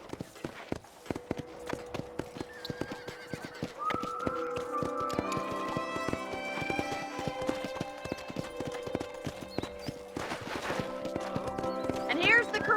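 Horses near a ranch corral in Red Dead Redemption clip-clop steadily at a walk, hooves tapping in a regular rhythm, with a horse whinny and someone talking over it.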